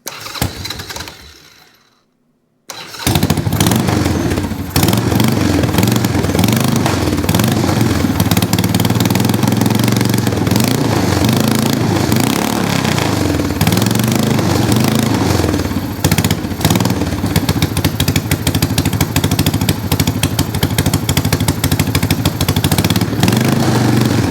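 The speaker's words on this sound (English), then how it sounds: "I want to start the bike" A motorcycle engine under carburetor repair cranks briefly, falls silent, then catches and runs steadily at a loud, rough idle close to the microphone for about twenty seconds.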